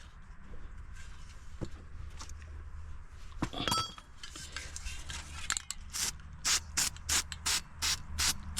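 Fluid Film rust inhibitor is sprayed onto the rear brakes and hub of a 2005 GMC Envoy: a few faint clinks first, then a series of short, close aerosol bursts in quick succession.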